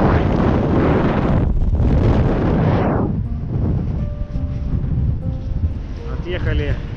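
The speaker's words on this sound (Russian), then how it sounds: "ветер штырит" Strong wind blows across open snow-covered sea ice, roaring hard into the microphone at first and then easing to a lower rush with some faint tonal sounds near the end.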